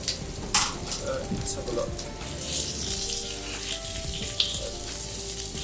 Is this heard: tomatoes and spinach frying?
yes